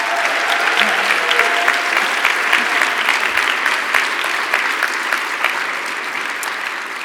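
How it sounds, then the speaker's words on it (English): A large crowd at an awards ceremony gives a sustained round of applause for the honorees, dense and loud throughout with a few cheers mixed in, fading slightly toward the end. "Let's give one final round of applause to all of our recipients that were recognized here today."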